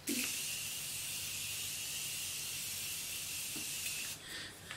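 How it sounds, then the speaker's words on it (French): Morphe makeup setting spray misted from a bottle, a steady, close, bright hiss held for about four seconds before cutting off, with a brief softer puff afterward. "Je vais mettre mon fixing spray de Morphe."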